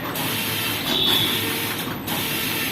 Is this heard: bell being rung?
no